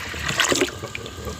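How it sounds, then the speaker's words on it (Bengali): Fresh water splashes and trickles into a container holding live fish, a short close pour with bubbling and dribbling sounds that rise and fall briefly. "জল দিয়ে দিলাম, জল চেঞ্জ করে দিলাম, নতুন জল।"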